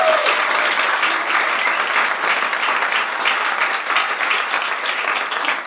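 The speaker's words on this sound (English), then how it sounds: "Can we just have one final round of applause for the team?" Dense, steady audience applause fills a startup showcase in Manchester, loud and continuous from start to finish with no break or voices on top.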